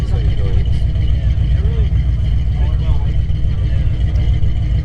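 A 1967 fully manual car's engine runs steadily with a dense, loud, low rumble throughout, while a voice talks over it.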